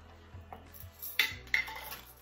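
A utensil scraping and clinking against a pot while roux is stirred for crawfish étouffée, a few soft metallic taps and scrapes, close and fairly quiet, no talking.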